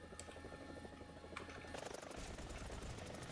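Helicopter in the War Thunder video game, a steady droning rotor and engine wash that grows louder and fuller partway through, heard alone without talk.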